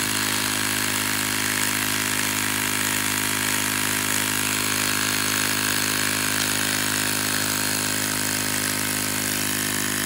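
A 164OB on-board air pump runs steadily as it fills a pneumatic tank, giving a constant mechanical motor drone with dense broadband hiss and a low hum, unbroken and close for the whole stretch.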